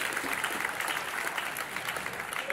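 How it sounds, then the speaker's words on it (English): Audience applause at a business launch-week talk on revenue operations, a steady dense wash of clapping that fills the whole stretch at an even, fairly loud level with no speech over it. "Round of applause for Seeger."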